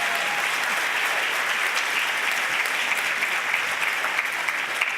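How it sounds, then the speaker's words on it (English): A large conference audience at a middle-level education general session gives speakers a round of applause, a loud, dense, unbroken wall of clapping lasting the full five seconds. "I want to give it another round of applause for today's speakers."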